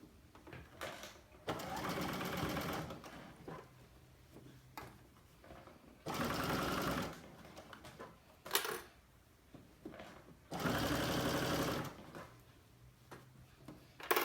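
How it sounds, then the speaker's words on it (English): A sewing machine stitches a knit Henley neckband in three sustained runs of rapid mechanical whirring, separated by quiet pauses with small handling clicks. "If you're using the sewing machine"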